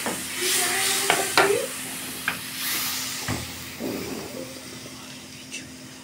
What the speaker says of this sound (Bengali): এবার সুন্দর পনিরটাকে ভাজা করতে হবে